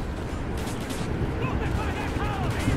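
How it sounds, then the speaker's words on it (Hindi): A bomb exploding in Call of Duty Black Ops, a dense rumbling blast and gunfire-like crackle over a noisy game backdrop, short and continuous. "अरे बम फूट जा।"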